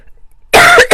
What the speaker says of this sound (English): you don't need to hear me coughing and hacking up a lung